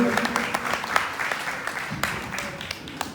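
An audience at a Shrimad Bhagavat Katha gathering in Naimisharanya claps to welcome a speaker, dense steady applause filling the room while voices talk underneath.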